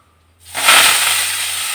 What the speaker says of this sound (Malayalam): എന്നോട് എന്തോ വൈരാഗ്യമുണ്ട് കടുവിനും, അതാ ഇത്ര മേൽ പൊട്ടുന്നത്